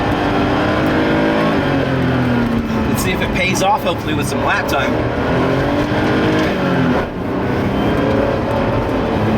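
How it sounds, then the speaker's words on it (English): A Porsche 930 Turbo engine revs hard on a race track, climbing and dropping through gear changes with brief dips between shifts, loud and close under someone talking throughout. "Keeping that turbo on boil. Using a lot of RPMs all the time, having to go between the gears here."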